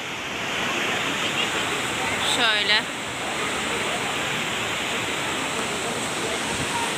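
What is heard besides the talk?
waterfall flowing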